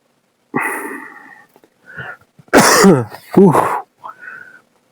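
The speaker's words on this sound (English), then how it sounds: "that's a pretty bad cough" A person nearby clears the throat and coughs in several harsh, rough bursts separated by short pauses, loud and close with no other sound.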